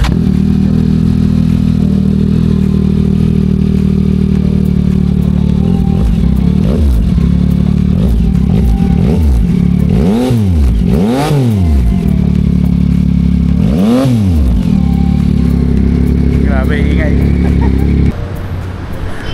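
Yamaha XSR900 first-generation motorcycle with an Orion underbelly exhaust, idling loud and close, then blipped through several sharp revs that rise and fall before it settles back to idle.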